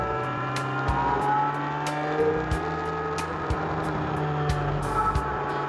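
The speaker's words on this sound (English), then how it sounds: "There's something special about hearing the engine echo through the valley." Yamaha FZ6 motorcycle engine on a curvy mountain road, a steady close humming drone with shifting pitch and repeated brief changes as the rider works through the gears, no talk.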